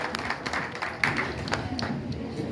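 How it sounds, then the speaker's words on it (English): Light scattered clapping from an audience at a rockabilly vintage fashion show in Ohio, brief sparse claps over a murmuring room rather than full applause. "A round of applause for Susan and her 1950s look."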